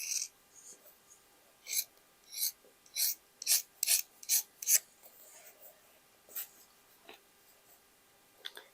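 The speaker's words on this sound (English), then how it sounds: "let's cut it like this" Leather being cut for a boho shoulder bag, a series of short crisp snipping and crunching strokes in a quick irregular run, close and fairly faint, then a few scattered cuts after a pause.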